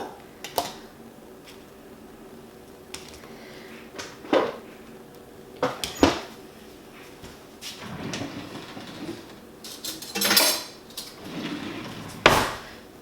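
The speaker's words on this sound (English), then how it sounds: "So I'm gonna get the 2 avocados cut." Knife cutting through two avocados on a board, with a handful of sharp taps and clunks spread irregularly amid soft kitchen handling noises, close and moderately loud, no talking.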